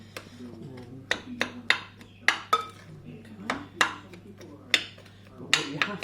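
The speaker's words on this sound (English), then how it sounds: "You can start mixing the butter in and sort of chopping it. I'm using the side of a spoon" The side of a spoon chops butter into a fruit scone mix in a bowl, giving a run of sharp, irregular clinks and taps against the bowl, close and fairly loud, with quiet pauses between strikes.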